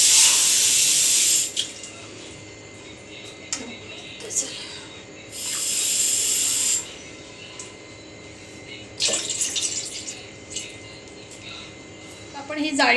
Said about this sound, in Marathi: आता स्टीमर हे करायचं. पहिलं 2 ग्लास पाणी घालायचं.